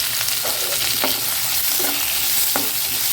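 Onions, tomatoes and green chillies sauté in a pan with garlic for a mint chutney, giving a steady close sizzle broken by several sharp scraping strokes of a stirring spoon, with no voices.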